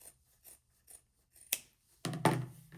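Scissors snip along a fabric tote bag seam, with a few faint soft clips followed by two louder, crisper cuts, close up and alone in a quiet room.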